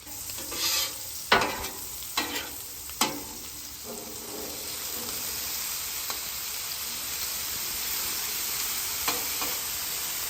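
Potatoes frying in chorizo grease, oil and butter on a Weber gas grill griddle, a steady bright sizzle with a few scraping stirs near the start, then settling into constant hiss with occasional pops.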